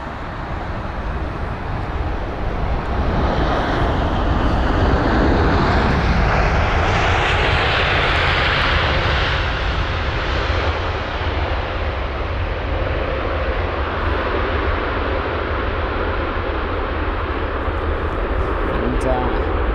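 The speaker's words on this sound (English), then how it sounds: "And that's a 787. Heading for his departure, runway 27 right, just in time for the runway alternations." Boeing 787 airliner taxiing toward its departure runway at London Heathrow, a loud continuous jet engine roar that swells and slowly shifts in pitch, with a person talking over it.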